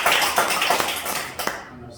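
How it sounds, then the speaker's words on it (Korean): Congregation in a Korean church service gives a short round of congratulatory applause for a visiting pastor, a dense close patter of clapping with a few louder claps that fades out quickly. "축하 박수 한번 드려요"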